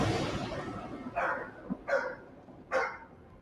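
A dog gives three sharp, separate barks at a moderate distance, spaced roughly a second apart, over a quiet background with a faint low murmur.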